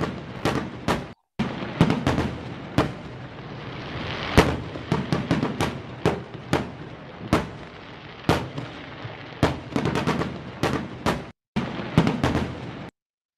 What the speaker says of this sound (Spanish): Para cerrar, vamos a tener unos fuegos artificiales y música